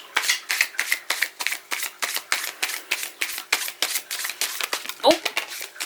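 Tarot cards are shuffled in rapid, rhythmic riffles, crisp repeated flutters close to the listener, with a brief voice near the end.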